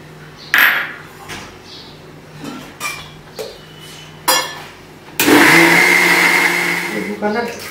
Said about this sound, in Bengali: এবার মিক্সিতে পেস্ট করে নেব